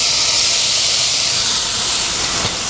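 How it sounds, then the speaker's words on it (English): Bacon sizzling in a pan over medium heat for duck leg cassoulet, a loud, steady broadband hiss of frying fat filling the whole stretch without pause. "Now let's put the bacon in."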